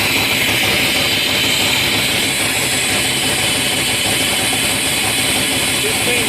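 A 1996 Dodge Ram with a 318 engine idles close by, giving a steady, unbroken broadband rumble and hiss that holds even for the whole stretch.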